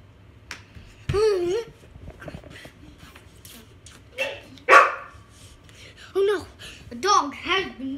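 A loosed dog barks in a few sharp bursts, loud and close, over an indoor background where people talk and babble between the barks.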